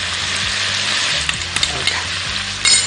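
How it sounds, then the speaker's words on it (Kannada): Finely chopped cabbage and capsicum fry in hot oil with a steady, loud sizzle, broken by a few light stirring knocks and scrapes. "ಎಣ್ಣೆನಲ್ಲಿ ಸುಮ್ಮನೆ ಹಾಗೆ ಫ್ರೈ ಮಾಡಬೇಕು."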